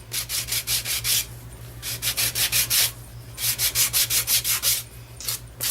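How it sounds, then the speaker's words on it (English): Sanding block rubbed back and forth along the trimmed sides of a cork board piece, quick rhythmic scraping strokes in close bursts with brief pauses between runs, no talk. "I'm going to take my sanding block and sand the sides again from where I trimmed"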